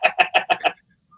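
Chicken clucking in a video game: five quick, evenly spaced clucks in a fast burst, then silence.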